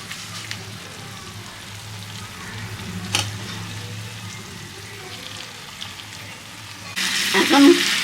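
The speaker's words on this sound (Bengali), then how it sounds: "এখন কষা চলছে, এতে জল পড়বে না, এর থেকে যে জল বেরোবে ওইটাই সেদ্ধ হবে।" Chicken frying in a pan for Bengali-style kosha cooked without added water: a continuous close sizzle and crackle that swells louder and brighter near the end, with no speech.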